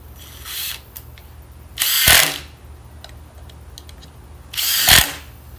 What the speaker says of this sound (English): here's our example of speed with 1 inch drywall screws into a piece of 2x4